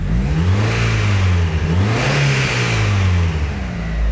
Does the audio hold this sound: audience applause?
no